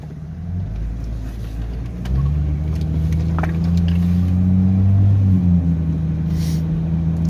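Jeep ZJ cruising at 45, a steady low engine drone and road rumble from inside the cabin, rising slightly in level partway through, with no talk.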